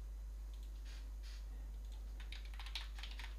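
Faint, steady typing on a computer keyboard while lettering is created in a graphic design program, with soft clicks in irregular bursts that grow a little busier toward the end, and no voices.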